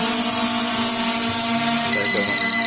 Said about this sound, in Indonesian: Dia berbunyi, dia tidak mau maju karena di depan ada rintangan.